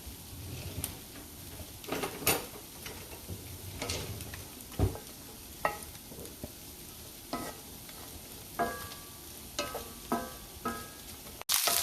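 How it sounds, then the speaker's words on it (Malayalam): Half a cup of chopped onions sautéing in hot oil, a soft sizzle beneath frequent spoon scrapes and taps against the pan, irregular and close, ending in a sharp clatter. "അതിനകത്തോട്ട് നമ്മൾ അരക്കപ്പ് സവാള അരിഞ്ഞെടുത്തേ. സവാള അരിഞ്ഞ് ഒന്ന് വഴന്ന് വരുമ്പോഴത്തേക്ക്"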